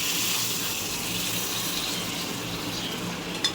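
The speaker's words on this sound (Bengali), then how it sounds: "এবার আমি গরম জলটা ঢেলে দেব।" Hot water pours steadily into a pan of frying pulao rice, a continuous close gushing splash that lasts throughout with no talking.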